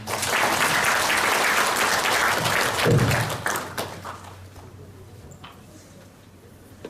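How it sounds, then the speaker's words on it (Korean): An audience at an academic conference on Korean traditional funeral culture gives sustained applause that stays loud for about three seconds, then thins into scattered claps and fades toward quiet, with a final stray clap. "큰 박수 부탁드립니다"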